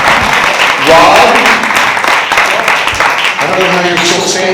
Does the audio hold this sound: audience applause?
yes